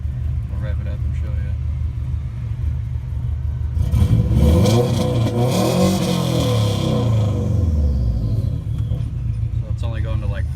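A turbocharged Subaru engine that had a leaking boost hose is revved: a low idle rumble swells into a loud, rising rev and falls back down. A voice speaks under the engine noise at the start and end.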